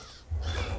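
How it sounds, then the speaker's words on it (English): Harsh cawing from a crow in the LOTRO video game, one sustained rasping call that starts abruptly and carries over a low background rumble. "I was interrupted by a freaking bird."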